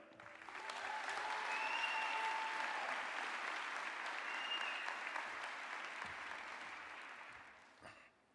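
An audience at a campus housing conference session applauds as a speaker is welcomed, the clapping swelling quickly, holding steady for several seconds, then fading out, fairly distant and soft.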